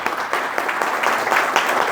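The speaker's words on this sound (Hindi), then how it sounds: "जोरदार ताली से स्वागत किया जाए" An audience greets a successful candidate with enthusiastic applause, brisk dense clapping that stays loud and close for the short stretch.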